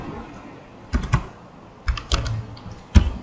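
Keystrokes on a computer keyboard while text is entered during a programming lesson: scattered short bursts of clicks, close and clear, with no talking over them.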